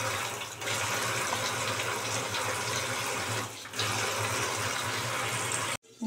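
Roasted mung dal being rinsed in a vessel, with steady close running water from a tap pouring and splashing continuously, broken by a brief lull near the start and a short cut-off just before the end.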